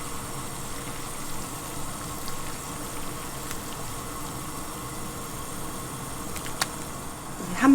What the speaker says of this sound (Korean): 이제 끓어서 고기를 넣을게요